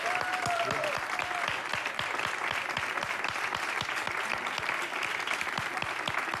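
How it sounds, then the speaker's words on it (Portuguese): A studio audience applauds João Gamboa on a television programme, a dense, steady wash of many clapping hands held at an even, fairly loud level for several seconds, with a faint voice briefly audible early on. "Um grande aplauso"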